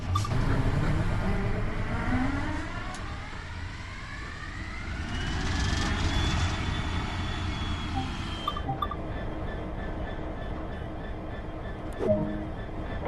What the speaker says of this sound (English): Use the engine start button on the desk, then wait for the engine to get running